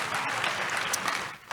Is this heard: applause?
yes